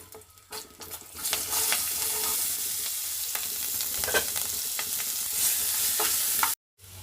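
Chopped onions and green chillies hit hot tempering oil with curry leaves for a ridge gourd and tomato curry, giving a loud, continuous close sizzle with stirring that cuts off abruptly near the end.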